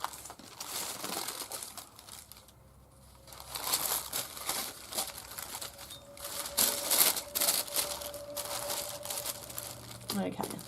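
Wax paper crinkled and tucked between art journal pages, steady close rustling and crackling with sharper crumpling bursts, faint and continuous throughout.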